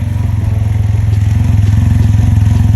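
Loud, close exhaust of a 2022 Can-Am Ryker 900 Rally Edition three-wheel motorcycle idling with a steady, throbbing low rumble that rises slightly in intensity.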